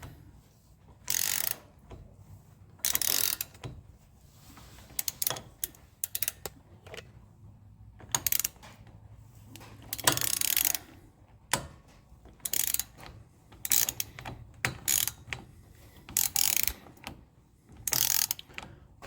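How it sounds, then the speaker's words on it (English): A ratchet tightens the wheel bearing nut on a Triumph Spitfire spindle, giving bursts of rapid clicking separated by pauses, close and crisp, with no talk over it. "just tightening this up just to drive it in lightly"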